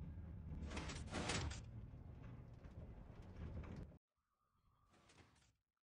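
A door in the Minecraft video game slides open with a loud, sustained grinding rush lasting several seconds, followed after a sudden cutoff by a fainter secondary mechanical sound.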